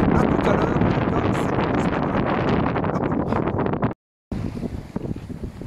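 Strong wind roars across the microphone on a sailboat running dead downwind under a single genoa, mixed with water rushing past the hull; a steady, loud buffeting that drops out briefly before resuming slightly softer.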